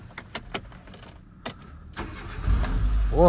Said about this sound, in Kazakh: Кана бир от алдырып көрөйүнчү.